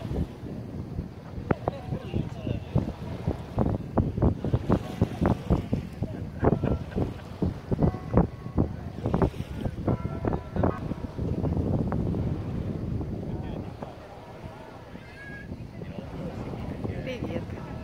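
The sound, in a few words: water rushing on Lake Maggiore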